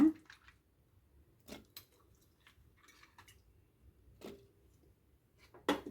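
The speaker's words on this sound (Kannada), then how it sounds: "ಇವಾಗ ಆಲೂಗೆಡ್ಡೆ ಹಾಕ್ತಾಯಿದ್ದೀನಿ, ಬದನೆಕಾಯಿ ಹಾಕೋಣ" Potato and brinjal pieces dropped into a pot of cooked cowpea curry: a few soft, wet plops and squishes spaced seconds apart, quiet with no voices.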